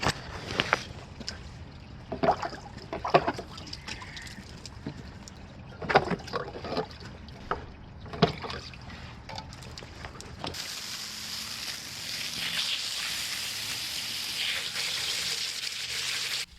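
Water splashes and sprays while a pool filter is hosed clean, first in short irregular bursts with gaps, then settling into a steady, louder continuous spray for the last several seconds.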